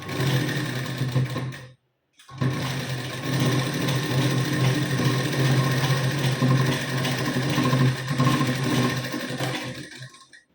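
A sewing machine stitches a blouse seam in a steady, fast, close whir that stops for a moment near the start and then runs on, with no voices.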